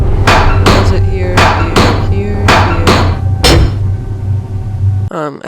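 Inside the Nancy Drew: Treasure in a Royal Tower game, a loud, close run of repeated sharp strokes sounds about every half second like sawing or chopping, then stops abruptly.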